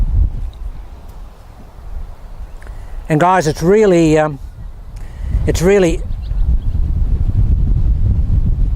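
Steady broadband wind rumble fills the clip, blustery and close to the microphone, with a person speaking briefly over it in the middle.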